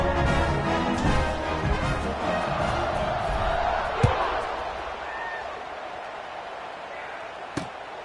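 Stadium crowd noise from a College Football 26 video game, a Hawaii versus Fresno State matchup: a broad, steady roar of cheering fans fills the field, swelling early and then easing off under a calmer background.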